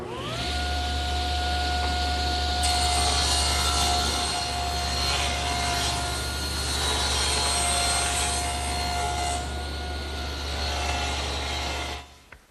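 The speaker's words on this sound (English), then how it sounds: "Now I'm going to move the fence about 1/8 of an inch closer to the blade, turn them end for end, and run the other edge through." A table saw rips along the edge of a board in a woodworking shop. The motor whines steadily and the blade cuts loudly for about twelve seconds, then the cut ends and the sound drops away.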